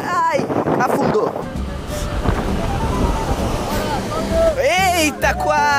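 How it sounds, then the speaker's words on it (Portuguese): Strong wind buffeting the microphone at a beach in Rio de Janeiro, a loud continuous roar blended with surf, with people talking and calling out over it. "O vento aqui é muito grande na região do Rio de Janeiro."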